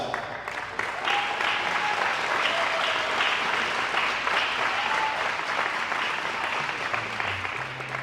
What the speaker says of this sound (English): we would like you to come up so you can get a round of applause